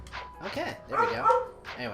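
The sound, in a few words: dog barking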